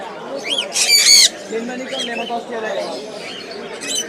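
Birds at the Mirpur 1 bird market in Dhaka give loud, near squawks and shrill chirps in short bursts, alongside softer coos, while people talk throughout.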